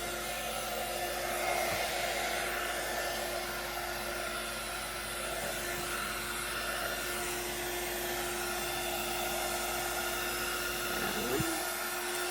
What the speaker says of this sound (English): you want the heat tool to be hot, to be warmed up before you start embossing